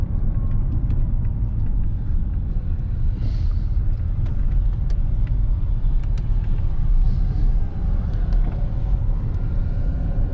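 A 2006 BMW M5 E60 with the S85 V10 engine runs steadily, fitted with new ignition coils, plugs and PCV valves. It produces a deep, continuous rumble heard close up with no talking over it.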